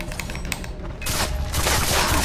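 Gunfire rattles through a Far Cry 3 firefight, a quick burst of sharp shots followed by louder, denser firing and booms close up.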